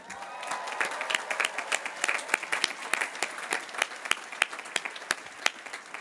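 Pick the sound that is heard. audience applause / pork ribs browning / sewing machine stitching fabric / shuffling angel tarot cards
audience applause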